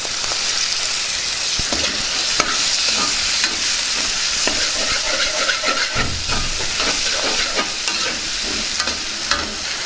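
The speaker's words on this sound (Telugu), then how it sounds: "దీన్ని కూడా బాగా కలుపుకుందాం టమాటో ముక్కలు కూడా వేసేసుకుందాం" Green pea and paneer curry with tomato pieces being stirred in a hot pan, giving a loud, steady sizzle and hiss throughout with frequent scraping and clicking of the spoon, close up and with no talking.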